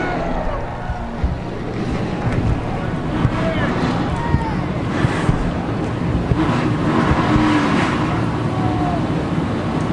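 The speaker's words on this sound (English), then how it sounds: "Drivers, start your engines!" Race car engines fire up together in the NASCAR Racing 2003 video game at Las Vegas, a dense, loud, continuous roar with steady low rumble and broadband noise throughout.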